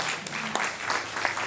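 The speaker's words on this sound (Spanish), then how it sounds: "Le damos un aplauso fuerte al Señor." Church congregation applauding during a Spanish-language Sunday service, a brief, steady wash of clapping at moderate distance, fairly soft and even throughout.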